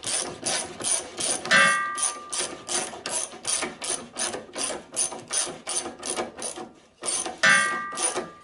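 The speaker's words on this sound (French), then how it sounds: "ça va me permettre, voilà, de tourner tout l'axe et il va se visser dans le châssis de la sorte" A ratchet turns an axle so it screws into a car chassis, part of fitting the front torsion-bar suspension. Close, even, rapid ratcheting clicks repeat in a steady rhythm, broken by two brief metallic rings and one short pause.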